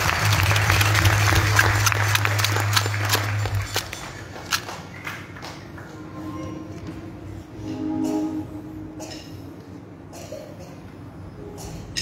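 An audience claps at a live worship concert at Complexe Culturel de Koné, a loud burst at first that thins into scattered claps and crowd noise.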